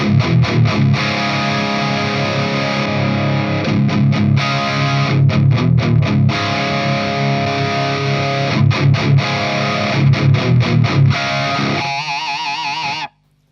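A heavily distorted electric guitar through a SMIRMOOR SAULE overdrive pedal plays loud, sustained chugging chords with rhythmic palm-muted breaks, then rings out and cuts off abruptly.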